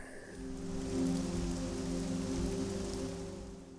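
Steady rain pouring in Castlevania: Lords of Shadow, a continuous dense wash of patter with a low droning hum beneath it, fairly even in loudness throughout.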